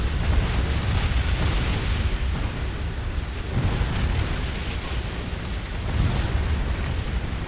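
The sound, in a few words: weapon barrages firing in Distant Worlds Universe video game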